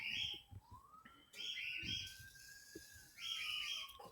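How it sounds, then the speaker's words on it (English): Birds chirping outdoors, bright repeated tweets and a long rising whistled call, moderately close but soft, with no talk. "There's a lot of birds out these days."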